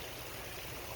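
Hot spring water at Sunbeam Hot Spring near Stanley, Idaho gushes steadily out of a hole in the ground, a continuous broadband rush of flowing water with wind noise mixed in and no voices.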